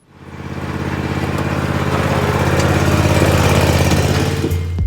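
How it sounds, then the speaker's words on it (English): A zero-turn lawn mower engine runs steadily and loud close by, a rapid buzzing drone that rises after startup and holds a constant throb throughout, with no talking. "today we're going to be reviewing both these zero-turn lawnmowers"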